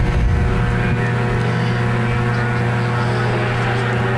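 Sport compact race cars at Park Jefferson Speedway roar past during a heat race, giving a loud, dense, steady engine drone with no break.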